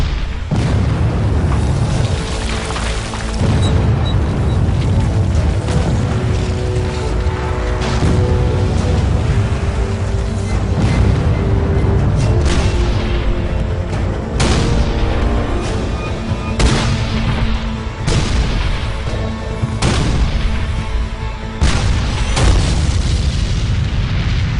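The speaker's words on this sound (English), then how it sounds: "It's the largest artillery barrage ever in the Western Hemisphere." A dense Civil War artillery barrage at the Battle of Gettysburg rumbles on continuously, heavy booms and sharp cannon blasts overlapping in a loud, relentless roll that barely lets up.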